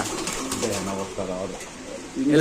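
Pigeons cooing at a live bird market in Bangladesh, low repeated coos rising and falling over busy crowd murmur and nearby voices, growing louder toward the end.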